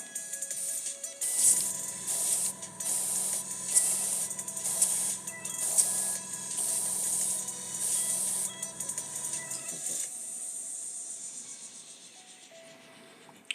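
Airbrush hissing steady air while painting a Warhammer Roboute Guilliman miniature, a close, continuous spray with short lifts and bursts, tapering off toward the end.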